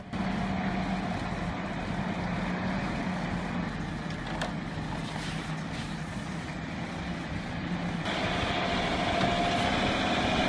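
A heavy winter road machine's engine labours under a hard load, a steady loud droning rumble that holds continuously and gets somewhat fuller and louder toward the end.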